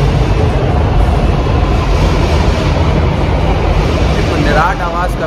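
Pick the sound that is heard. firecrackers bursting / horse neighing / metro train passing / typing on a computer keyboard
metro train passing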